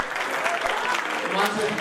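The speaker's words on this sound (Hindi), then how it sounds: "तालियां होनी चाहिए।" Audience applause at a Karachi stage comedy show, a steady spread of clapping lasting a couple of seconds, moderately loud, with voices talking over it.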